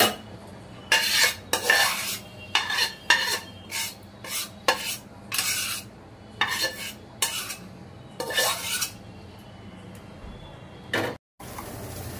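Metal spoon scraping and clinking against pots while hilsa biryani gravy is ladled into a separate pot, a string of short, bright utensil clatters with brief pauses in a quiet kitchen, no talking.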